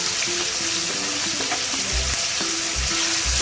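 Tomato, ginger, garlic, cinnamon, cloves, cardamom and coriander leaves frying in a pan for mutton sambar, a dense continuous sizzle with faint stirring scrapes underneath, close and without speech.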